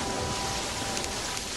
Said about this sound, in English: it just stopped raining and now it's raining again